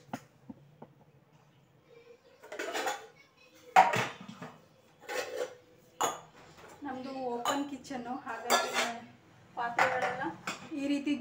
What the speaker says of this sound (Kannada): ಪಾತ್ರೆ ತೊಳೆದಿರೋವೆಲ್ಲ ಹಾಗೆ ಇಟ್ಟಿದ್ದೆ. ಫಸ್ಟ್ ಅದು ಅವುಗಳನ್ನೆಲ್ಲ ಜೋಡಿಸಿ ಆಮೇಲೆ ಕೆಲಸನ ಸ್ಟಾರ್ಟ್ ಮಾಡ್ತೀನಿ